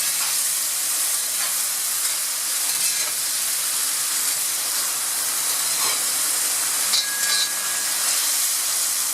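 Mushrooms sizzle steadily in a hot pan for a potato, ham and mushroom bake, a continuous close hiss of frying with faint stirring clicks and no voices.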